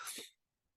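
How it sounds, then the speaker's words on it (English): A single sharp sneeze, loud and close, ending quickly and fading into near silence. "I have to sneeze here."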